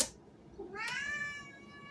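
An indoor cat, eager to go outside after spotting another cat, gives one drawn-out, rising meow after a soft brief noise, alone against quiet room hiss.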